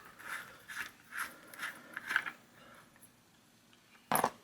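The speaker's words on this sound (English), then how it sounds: "So I'll go ahead and remove the cone here." Cone nut being unscrewed from a bicycle wheel hub while replacing the hub bearings. About five evenly spaced metallic ratcheting clicks come first, then a short pause and one louder, sharper click at the end. No one speaks.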